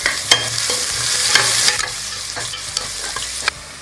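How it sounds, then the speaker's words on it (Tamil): Onion sautéing in a hot pan with garlic and cumin, a steady sizzle broken by a few sharp scraping stirs, close and fairly loud with no talking. "வெங்காயம் போட்டு நல்லா வதக்கிக்கலாம்"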